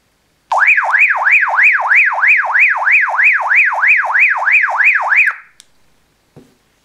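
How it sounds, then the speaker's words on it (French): A loud electronic alarm from a Baofeng UV-5R handheld radio whoops in rapid, regular rising sweeps for about five seconds, then cuts off abruptly, followed by a couple of faint clicks. "Le bouton Call, il permet également d'accéder à une fonction alarme."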